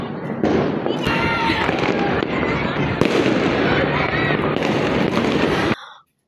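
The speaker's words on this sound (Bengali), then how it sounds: "12টা বেজে গেছে আর এখানে আতশবাজি আরো শব্দ বেশি বিকট হয়ে যাচ্ছে।" Midnight fireworks explode continuously, a dense, loud crackling barrage with sharp bangs and fizzing bursts layered over each other, voices faintly mixed in, cutting off abruptly at the end.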